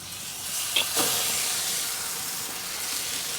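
Steady hissing sizzle of soaked French toast cooking on a hot grill, continuous and fairly close, with a brief louder crackle near the start.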